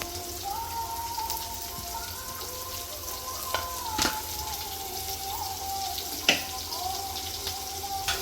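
Chopped onion dropped into hot oil tempered with cumin and curry leaves for upma, frying with a steady crackling sizzle and a few sharp pops over a soft background hiss.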